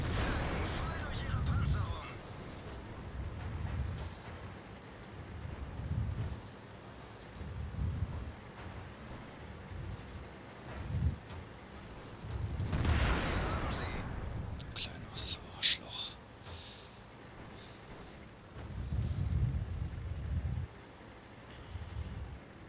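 Tank cannon fire in World of Tanks, with an IS-7 heavy tank dueling a heavy tank destroyer: several deep booming blasts and rumbles spaced across the scene amid low engine drone and background noise, with someone talking.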